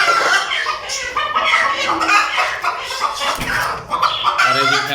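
Desi hens cluck and fuss loudly on a rooftop coop, close and continuous, with overlapping calls from several birds and no talking.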